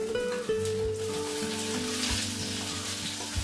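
Tomatoes drop into hot oil with ginger, garlic and shallots for a Kerala-style fish curry, giving a steady, close sizzle and crackle under sustained background tones.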